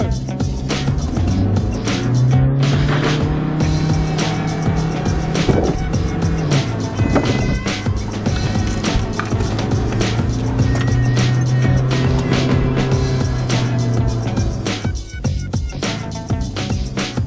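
A Volkswagen car drives through a driver-training course. Its engine drones loudly and steadily nearby, with pitch rising and falling as it accelerates and slows, plus faint rattles and road noise.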